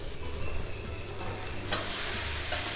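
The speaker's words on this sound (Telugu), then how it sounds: "ఇప్పుడు మనము వెజిటబుల్స్ వేసుకోవాలి. పచ్చి బఠానీలు, మొదట చూపించిన ముక్కలన్నీ వేసేసుకోవాలి." Mixed vegetables and green peas fry in a pot for a mint pulao in a rice cooker, a steady close sizzle with a sharp clink of a spoon partway through, and no talk.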